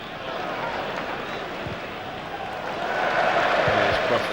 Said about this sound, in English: Cheers from the crowd as Leeds start to string the passes together.